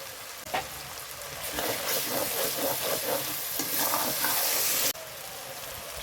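Spice masala for chicken roast frying in oil and being stirred, with a steady loud sizzle and repeated spatula scrapes close by, cutting off sharply near the end, with no talk.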